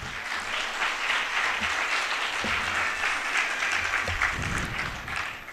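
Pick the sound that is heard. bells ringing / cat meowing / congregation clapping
congregation clapping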